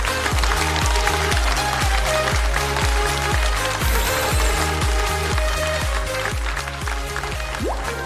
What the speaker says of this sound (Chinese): 掌声送给3组优秀的脱口秀演员。